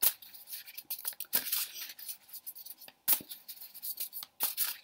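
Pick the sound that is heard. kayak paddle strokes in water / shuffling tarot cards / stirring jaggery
shuffling tarot cards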